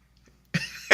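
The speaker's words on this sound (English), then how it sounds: "Who's coughing?" A person gives two short, sharp coughs close to the microphone after near silence, the second burst louder than the first.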